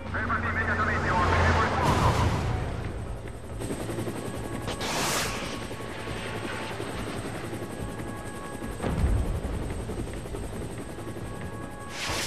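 Helicopter in the video game InFamous Last Light, a steady rotor drone running under the whole stretch of game noise, with brief bursts of gunfire and other action sounds layered on top.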